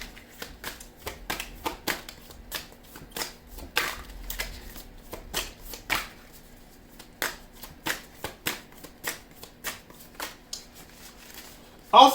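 Tarot cards are shuffled in a long series of crisp, close riffling bursts, some quick and some spaced apart, in an otherwise quiet room, ending with a louder rustle.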